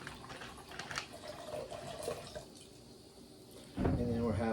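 Sprite soda is poured into a container for a Halloween snack recipe, giving a soft liquid splash and fizz, with a voice talking briefly near the end.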